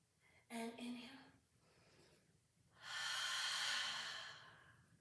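During a Pilates mat exercise on a reformer, a voiced sigh is followed by a long, deep, airy breath drawn in close to the microphone, with no words spoken.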